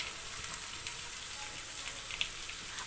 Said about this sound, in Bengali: সব উপকরণগুলো একসঙ্গে মিশিয়ে হালকা ভেজে নিতে হবে